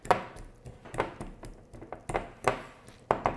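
Food mashed in a bowl with a little lemon juice gives a series of soft, dull thuds and taps at a roughly regular rhythm of about one per half second, close and fairly quiet, with no talk.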